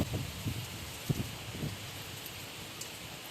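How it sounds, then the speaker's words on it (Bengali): Steady heavy rain hisses outside during a storm, with a few low gusty thumps early on, then an even wash of downpour; no voices. "আরে তুমুল ঝড় বৃষ্টি স্টার্ট হয়ে গেছে বাইরে"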